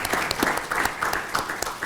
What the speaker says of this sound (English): give Greer a big empathetic applause for being here today